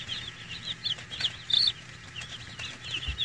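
Newly arrived broiler chicks peep in a backyard coop, a steady chorus of high, thin chirps repeating close by, with a faint low rumble underneath.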